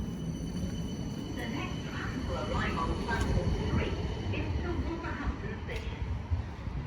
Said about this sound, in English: there's another tram coming already